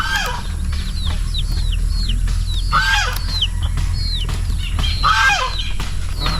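Free-ranging chickens and turkeys on a farm, close and fairly loud, with repeated clucks and short calls bursting out over a low steady background hum, plus a brief flutter of wings.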